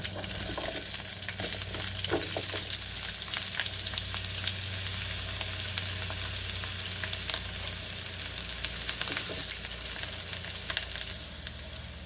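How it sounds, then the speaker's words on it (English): Steady, continuous sizzling of roughly cut, large onion chunks frying in a hot pan, with occasional crackles and faint stirring, no talking. "the first thing I'm going to throw down into this pan is going to be my onions"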